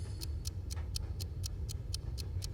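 A pretty pocket watch ticking steadily and crisply at an even pace, with soft low background hum underneath and no voices.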